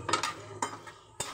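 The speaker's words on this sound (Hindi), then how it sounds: "सारे कटहल और यहाँ पर प्याज मैंने तेल में डाल दी है," Jackfruit and onions cooking in oil in a pan, heard as several sharp metal clinks of a utensil against the pan over a faint background sizzle, with no voices.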